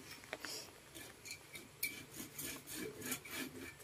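A hand saw cuts through wood during a roof repair at an elderly woman's flood-damaged house, a quiet, uneven run of rasping strokes heard at some distance.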